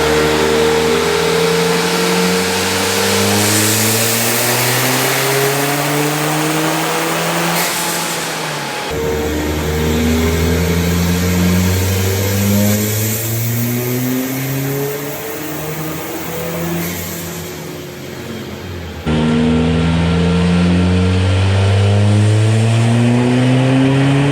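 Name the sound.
tuned VW TDI car engine revving during dyno pulls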